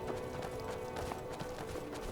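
Horse hooves clip-clopping in Skyrim Special Edition, a quick run of soft uneven taps over a low background hum, moderately close and without talk.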